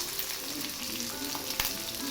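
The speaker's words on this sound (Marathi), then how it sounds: "तर ते एक कांदा, काळी मिरची आणि कोथिंबीर तो फोडणीत द्यायचा आणि फोडणीमध्ये हिंगसुद्धा वापरायचं." Onion, black pepper and asafoetida sizzle in hot oil for a tempering, a steady close crackle and hiss with a brief louder pop near the end.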